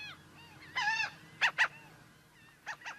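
Several loud, harsh gull calls sound close by in a marsh: one drawn-out squawk, then two sharp cries, then two more, over a quiet background.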